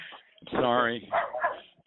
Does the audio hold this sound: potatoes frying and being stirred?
no